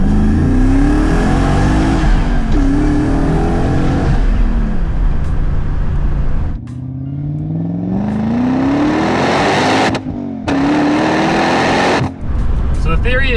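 A manual Lexus IS300 with a swapped 3UZ V8, running in limp mode, drives hard with loud, rising engine pulls through several gear changes, the revs climbing and dropping, with people talking inside the car.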